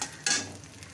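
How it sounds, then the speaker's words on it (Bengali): Grated coconut, raisins and cashews frying in a pan, a brief soft sizzle with a quick stirring scrape in the middle, faint and close. "দেখো নারকোল কিশমিশ কাজুটাকে আগে ভেজে নিচ্ছি।"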